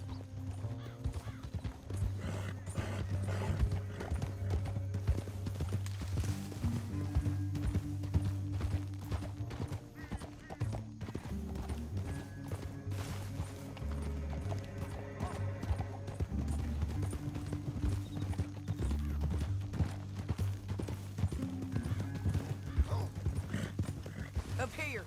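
Horse hooves gallop at a steady, fast clip in Red Dead Redemption 2, loud and continuous for the whole stretch, with an occasional whinny and game music and voices underneath.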